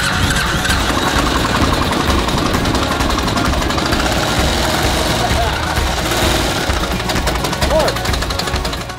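A diesel motorcycle engine cranks on its starter and runs in a loud, continuous mechanical clatter that persists close by for the whole stretch, with a brief squeal near the end.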